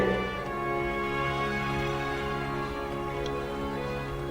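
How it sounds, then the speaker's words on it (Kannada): Arabic background music plays from a phone music app, a sustained melodic tone with layered steady harmonics and soft percussive ticks at an even, moderate level with no voices. "ಸೊ ಗೈಸ್, ನಿಮಗೆ ಈಗ ಮ್ಯೂಸಿಕ್ ಕೇಳ್ತಾ ಇದೆ."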